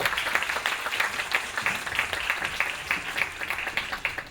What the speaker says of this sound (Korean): 저희 그 우 교수님께 다시 한번 큰 박수를 좀 부탁드립니다